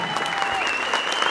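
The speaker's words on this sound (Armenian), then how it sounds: "մի մարդու պես, բարձր ծափերով, բարձր ծափերով" Loud audience applause at an Armenian concert in Tolyatti, continuous dense clapping filling the whole moment, with a sustained tone ringing over it.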